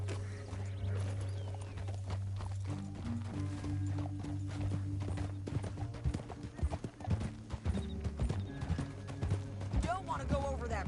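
Horse hooves clip-clop in a steady walking rhythm close by in a video game, with a horse snorting and voices speaking over them.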